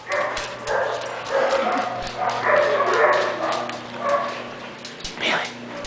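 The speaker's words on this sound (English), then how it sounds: "Puppy! Hi, sweetie." A dog whimpers and lets out short barks and yips in an indoor room, the sounds loud and close, repeated in uneven bursts over several seconds.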